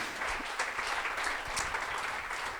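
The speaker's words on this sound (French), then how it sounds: "On peut les applaudir, on vous remercie." Audience applause at an innovation strategy event in Montpellier, a steady dense wash of many hands clapping throughout, moderately loud with no voices over it.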